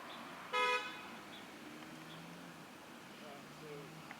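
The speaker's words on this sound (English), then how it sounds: "there's someone honking" A car horn gives one loud, short honk nearby, then quiet street noise with faint voices talking in the background.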